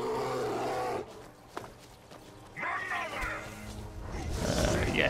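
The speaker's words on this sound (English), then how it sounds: "Oh, I hear a bear." A bear in Skyrim gives low roars and growls, loud and close, with a brief quieter gap, over a noisy game background.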